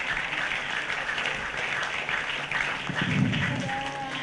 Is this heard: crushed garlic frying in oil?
no